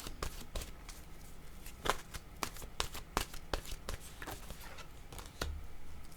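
Tarot cards shuffled by hand, quiet, close papery flicks and riffles in an irregular rhythm, sometimes a sharper snap, with no talk over them.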